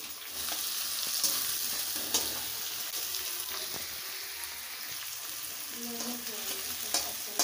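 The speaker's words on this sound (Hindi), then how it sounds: "प्याज को लाल करेंगे छींटकर" Onions fry in a pan for egg curry with a soft continuous sizzle, broken by occasional scrapes and clicks of stirring, close and moderately quiet with no talking.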